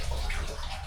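Strong water flow gushes from a tap, a dense and steady rushing close by with no breaks.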